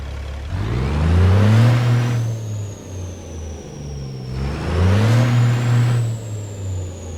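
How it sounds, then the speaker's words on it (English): A heavy CAT C12 diesel truck engine in American Truck Simulator revs up twice, rising and falling in pitch, with a steady whine over the deep rumble, loud and close. "And that, my friends, is what you call an amazing sounding engine."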